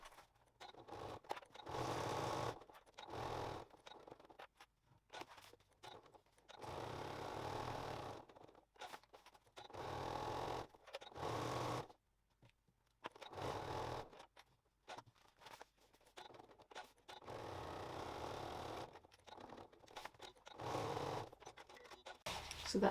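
A sewing machine stitches rows around the outside of a fabric weekend bag in short, close bursts of whirring separated by brief pauses, with no talking.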